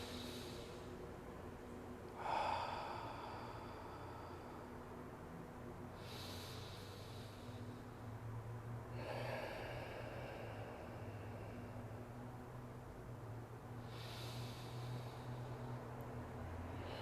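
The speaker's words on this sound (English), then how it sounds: "take some deep inhale and exhale, 5 to 10 deep inhale and exhale" Slow, deep yoga breaths, inhaling and exhaling in a few long, soft airy swells spaced several seconds apart, faint and close over a steady low hum.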